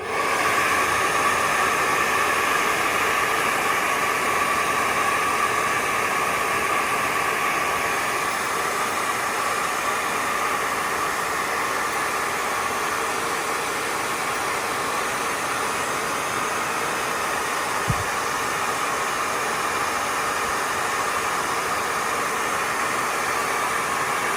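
A heat gun on maximum heat blows hot air at a fire detector during an MxPro4400 Apollo fire alarm system test. It gives a loud, constant, close whooshing hiss that runs unchanged for the whole stretch, with one faint tap near the end and no talking.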